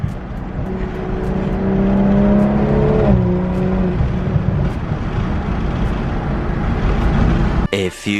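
BMW M340i on TE37SL wheels spinning its tires in a burnout, the engine revving hard in a steady loud roar with rising and dipping pitch, tire noise mixed in, ending with a brief clatter.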